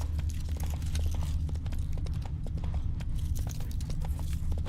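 Horse hooves clip-clop in a quick, steady rhythm in The Witcher 3 video game, close and clear over a low rumbling background, with no talking.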